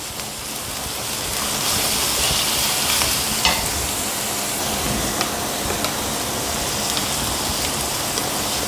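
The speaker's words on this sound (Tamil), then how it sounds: "இது எல்லாத்தையும் நல்லா வதக்கிக்கோங்க" A steady, loud sizzle of vegetables frying in a pan for vegetable fried rice, with occasional scrapes and clicks of stirring over the crackle.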